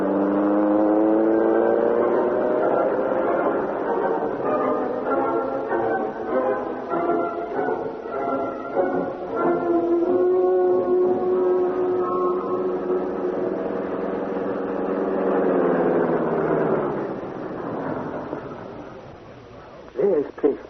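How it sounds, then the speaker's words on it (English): In an old-time radio crime drama, a big car's motor roars and speeds away, a rising, whirring engine sound that swells and then fades into the distance, heard under a narrator's voice. "The doors slammed, the motor roared. As the great car leaped forward"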